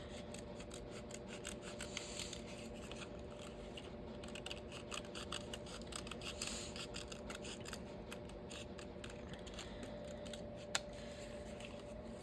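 Scissors snip through printed paper to trim off a section, giving a steady run of quiet, close crisp cuts and rustles with no talking.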